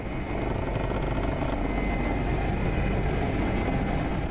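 Rescue helicopter circling over a road accident site in a meadow, a steady, loud broadband rotor and engine roar that holds constant throughout with no voices.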